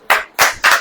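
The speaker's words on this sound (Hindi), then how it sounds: "ताली बजाइए" A church congregation claps in three distinct, loud bursts, each short and evenly spaced with brief silence between.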